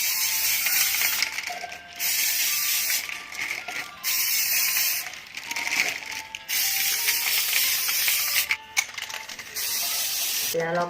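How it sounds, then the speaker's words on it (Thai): Spray paint hisses loudly from an aerosol can onto a plastic soda-bottle planter in close, repeated bursts of several seconds each, separated by short pauses. "แล้วเราก็ทำการพ่นสีสเปรย์ได้เลยค่ะ"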